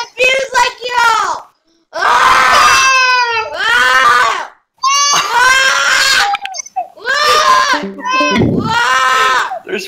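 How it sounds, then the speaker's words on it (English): A baby wails loudly and close over a voice-chat call, with long, strained, pitch-bending cries broken by short gasping pauses, repeated several times. "There's a baby crying."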